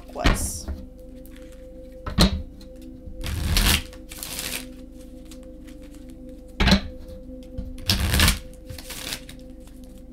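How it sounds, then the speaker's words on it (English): A deck of tarot cards is shuffled by hand in several short, crisp riffling bursts separated by pauses. The shuffles sound close by over a faint steady background tone. "Let's shuffle these cards here and see what's going on with the Aquas."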